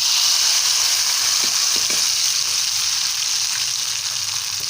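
Hot tempering is poured into a dal of drumstick leaves, amaranth greens and tomato, setting off a loud, steady sizzle and crackle that fades slightly toward the end, with no talking.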